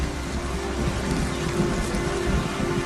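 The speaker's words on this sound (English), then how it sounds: "It's starting to rain." Rain falls steadily as it begins, a dense patter of drops on surfaces heard close and alone, with a low rumbling beneath.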